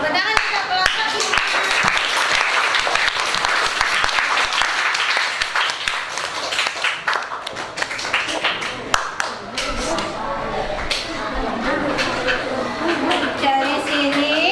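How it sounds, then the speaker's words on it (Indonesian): A classroom of students applauding group 5, lively uneven clapping that builds and then thins out over about fifteen seconds, with some chatter mixed in toward the end. "Tepuk tangan untuk kelompok 5."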